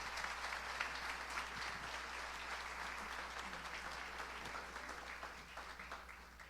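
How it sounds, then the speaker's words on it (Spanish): An audience at a church testimony gathering claps steadily for several seconds, a dense, even patter of many hands heard from a short distance. "Un aplauso, por favor."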